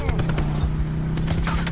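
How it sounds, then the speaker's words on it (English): Rapid bursts of gunfire in a Blackout battle royale video game, sharp repeated shots crowding together over a steady low in-game rumble, with a voice underneath. "Someone's shooting at me."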